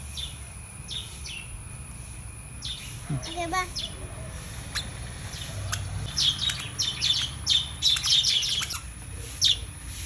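A small bird chirps in quick bright bursts, clustering into a rapid twittering run toward the end, with a brief voice partway through.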